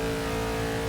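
A race car engine roars in the Forza 6 racing game on the Le Mans Old Mulsanne circuit, a dense, steady, loud drone with a constant pitch and no voices.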